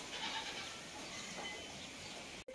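A goat bleats faintly somewhere on a village farm, a quiet, distant call over a low background hush, followed by a sharp click at the very end.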